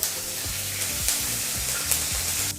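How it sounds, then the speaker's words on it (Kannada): Dried red chillies and curry leaves fry in hot oil, a steady close sizzle with bubbling crackle throughout and a few soft stirring scrapes. "ಈ ಪದಾರ್ಥನೆಲ್ಲ ಒಂದು 30 ಸೆಕೆಂಡು ಎಣ್ಣೆಯಲ್ಲಿ ಫ್ರೈ ಮಾಡ್ಕೋಬೇಕಾಗತ್ತೆ"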